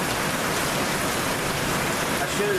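Heavy rain pours down steadily at an outdoor campsite, a dense, continuous hiss of drops drumming on surfaces close by, loud and unbroken throughout.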